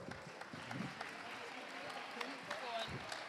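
Audience clapping at a Wales player cap presentation evening, a scattered, moderately distant round of applause with the crowd murmuring and a voice talking over it.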